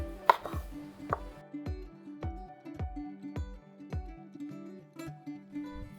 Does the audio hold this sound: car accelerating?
no